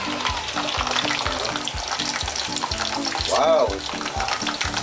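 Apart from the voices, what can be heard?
beef crispy pata frying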